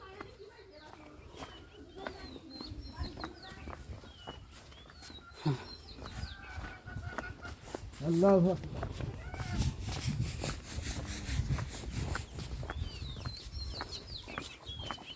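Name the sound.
roosters and hens clucking while feeding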